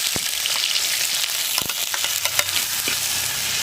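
Onions sizzle loudly in hot oil seasoned with fenugreek, cumin and fennel seeds for a quail egg roast, a steady frying hiss broken by a few sharp stirring scrapes and clinks, with no one talking.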